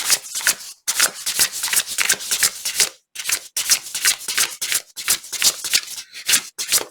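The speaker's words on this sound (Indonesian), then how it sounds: "Sorry guys kalau kartunya sangat berisik." A tarot deck being shuffled loudly and close up in rapid, papery bursts broken by a few brief pauses, with no voice over it.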